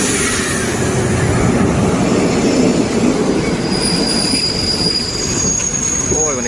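A Thai passenger train arriving at Pak Tho station, wheels squealing loudly and steadily against the rails at close range, with high-pitched metallic screeches rising near the end as it slows to a stop.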